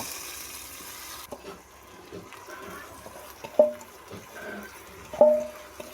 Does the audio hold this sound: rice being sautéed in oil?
yes